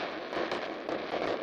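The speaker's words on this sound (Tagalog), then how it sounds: "fireworks. Beautiful." New Year fireworks go off in Portland as continuous dense crackling and popping, loud and unbroken, with slight swells in intensity.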